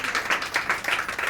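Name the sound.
clapping hands in praise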